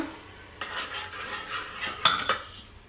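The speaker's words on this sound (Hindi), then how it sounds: "मम्मी ऐसे मिलाएगी अच्छे से" A spoon stirs cooked vegetable curry in a metal pan at home, with steady scraping and a couple of sharp clinks against the pan near the end.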